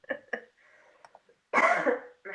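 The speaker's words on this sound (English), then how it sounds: "Let me clear my throat." A person clearing their throat close to the microphone: a couple of short rough coughs, quiet rasping, then a louder, longer harsh clearing burst.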